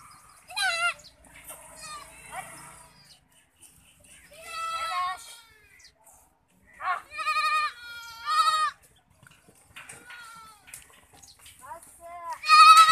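Goats bleat in a village, several loud, wavering cries at close range spaced across the stretch with quiet gaps between, while people talk faintly in the background.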